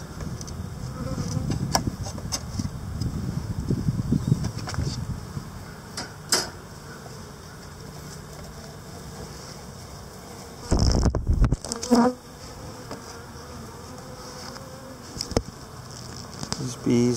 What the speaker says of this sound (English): These bees just seem to be working on making some comb from what I can tell.